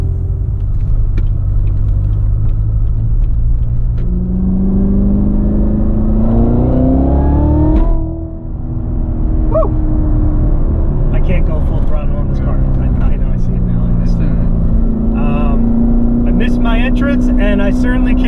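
A 757-horsepower Callaway Corvette Z06 engine pulls hard under heavy throttle, its loud rumbling note climbing in pitch, dropping at a brief gear change, then climbing again, with the tires breaking loose slightly and someone talking over it.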